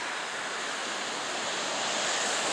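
Ocean waves wash steadily onto a beach along the coast, a constant loud broadband rush of surf with no voices over it.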